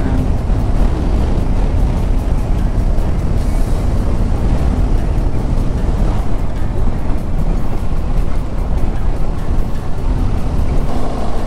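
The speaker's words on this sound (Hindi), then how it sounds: "थर्ड गियर पे फोर्टी वन बिंदास और ये पल्सर 150 फुल्ली लोडेड" A Bajaj Pulsar 150 motorcycle, fully loaded, climbs the Chang La mountain pass in third gear near Leh, its engine a loud, steady drone under heavy wind rush throughout.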